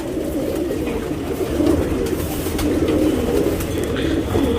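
Flying pigeons readied for a racing tournament coo continuously in a low, throaty murmur that stays close and fairly loud throughout, with no talking over it.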